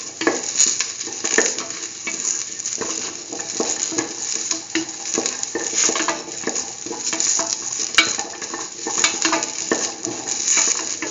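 Shallots fry in a pan with a steady close sizzle, broken by frequent scraping and stirring clatter as they are moved about, with no voices.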